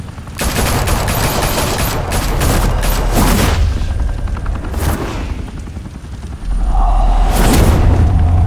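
Dense bursts of gunfire ring out in Batman: The Telltale Series, a loud sustained volley broken by a brief lull before another heavy barrage of shots and booms rolls in.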